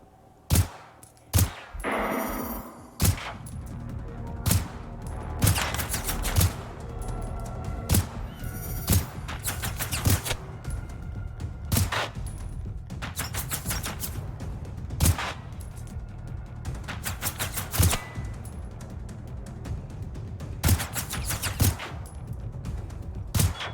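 Rifle and pistol gunfire in the Generation Zero video game, sharp single shots spaced irregularly over about twenty seconds with some quicker bursts, loud and near against a low rumbling background.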